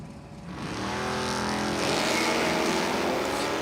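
A Chevrolet Malibu drag car at a dragway during an ET finals race roars in a loud, building engine blast that swells and holds as it accelerates down the strip.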